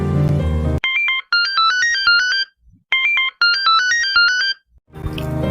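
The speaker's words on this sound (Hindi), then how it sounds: "देखो युकेश, सपना का मैसेज आया है।" A phone's message notification ringtone plays two bright, stepped melodic phrases with a short gap between them, loud and clear, with music before and after.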